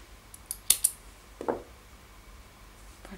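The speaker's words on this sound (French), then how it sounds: "je fais une maille coulée et je coupe mon fil" Scissors snip crochet yarn in a few quick, close, crisp clicks and one soft cut, sparse and quiet in an otherwise still room.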